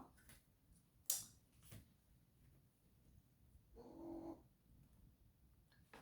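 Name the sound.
cat meowing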